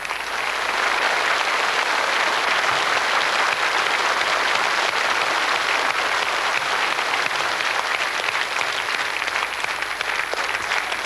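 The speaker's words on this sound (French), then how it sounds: "Allez, on les applaudit." A large audience claps in dense, continuous applause that holds steady and loud for about eleven seconds without pause.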